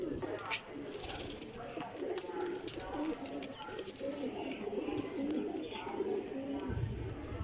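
Pigeons coo in a steady murmur under a constant hum of activity, with occasional sharp clicks and flutters nearby, while someone talks over them.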